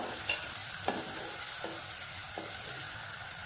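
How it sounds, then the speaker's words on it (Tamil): Ginger garlic paste sautéing in a pan, a steady oil sizzle with a few soft spoon scrapes and taps stirring it through, close and moderately loud, no talking. "இப்போ இஞ்சி பூண்டு பேஸ்ட் நல்லா பச்சை வாசனை போக நல்லா வதக்கிக்கணும்"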